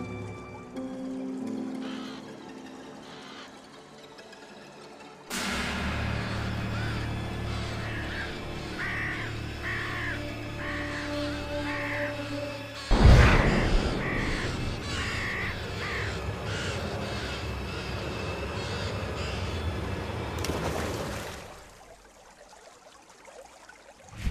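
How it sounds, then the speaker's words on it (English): Crows caw in a repeated series of harsh calls over a long stretch, layered with ambient music and rumbling background sound that swells midway with a loud hit and fades near the end. "They say that a crow will take a soul to the afterlife."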